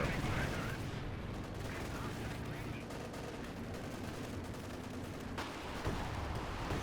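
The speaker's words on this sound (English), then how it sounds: "Nice Panzerwerfer hitting a lot of the infantry and random stuff over here." Panzerwerfer rocket artillery striking infantry in Company of Heroes 2, a dense continuous rumble of explosions and gunfire that stays steady and loud throughout, with no distinct single impact.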